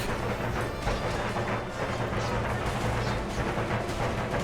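Musket volleys from Swiss guards in Empire Total War crackle as a dense, continuous battle din, with gunfire and distant booming blended into steady noise throughout.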